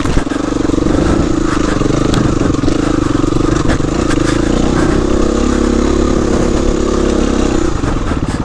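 A KTM 350-EXC motorcycle engine runs in second gear with the clutch partly slipped, a loud, close, steady buzzing drone with slight rev changes and some clattering throughout.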